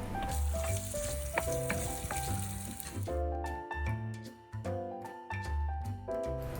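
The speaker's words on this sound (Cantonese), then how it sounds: "剩翻啲嘅辣椒油喺個鑊度都唔好嘥，放啲蝦落去炒香佢" Shrimp stir-frying in leftover chili oil in a wok, with loud, continuous sizzling and crackling and intermittent clanks of the spatula stirring, without speech.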